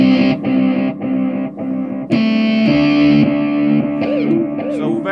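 Zoom G3Xn guitar multi-effects pedal with a tape echo effect, sustained loud distorted electric guitar chords whose repeats smear and trail behind each strum, running continuously with brief dips between chords.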